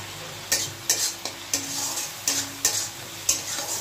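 Spice masala with winter vegetables, tomato and capsicum, seasoned with sugar, turmeric and salt, is stir-fried in a pan, with a soft sizzle under repeated, rhythmic scrapes of a spatula close up.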